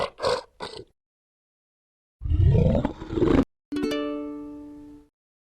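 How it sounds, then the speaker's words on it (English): A bear roars in two rough, growling bursts, loud and close, following a few short grunting calls, then a bright chime-like tone rings out and fades. "Bear."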